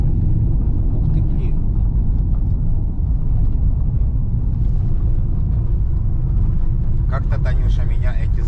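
A car drives along a forest road near Bilé Lake in Ukraine's Rivne region, heard from inside as a steady, close engine-and-tyre rumble that continues throughout with faint rattles.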